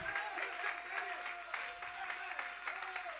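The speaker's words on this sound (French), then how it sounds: "On va donner une main d'acclamation." A church congregation gives a round of applause during a worship service, with steady, moderately distant clapping that is mixed with voices and a held tone underneath.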